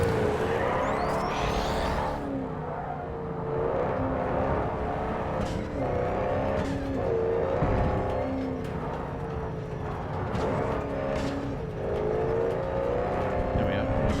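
A car in the video game Cyberpunk 2077 drives off-road with a continuous engine drone that rises and falls as it revs, while a person talks over it throughout.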